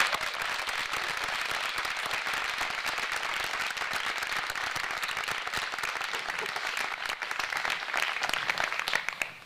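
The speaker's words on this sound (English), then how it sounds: "Let's all celebrate these amazing students with a round of applause." Sustained applause from a school ceremony audience honoring students at an orchard event, dense and continuous clapping that holds steady and swells slightly near the end.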